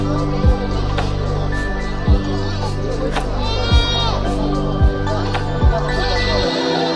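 Goats bleat repeatedly amid a busy crowd at the Rice Mill village livestock market in Habibpur, with several loud nearby cries rising over a steady hum of chatter and distant animal calls.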